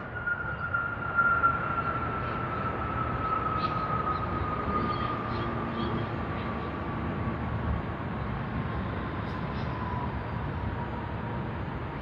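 A heavy airliner touches down and rolls out at Sydney Airport, a steady, loud broadband roar of engines and rushing air with a faint high whine holding throughout, with no one speaking.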